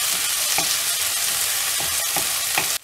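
Tomatoes fry in oil with a loud, steady crackling sizzle up close. Periodic stirring scrapes break through before the sound cuts off abruptly at the end.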